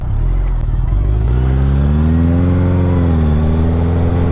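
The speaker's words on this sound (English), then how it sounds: "I'm in pure bliss riding this bike, the CB1100." A Honda CB1100 motorcycle engine heard while riding, a loud, steady, close mechanical drone whose pitch rises and falls smoothly as the bike accelerates and eases off, with no talking.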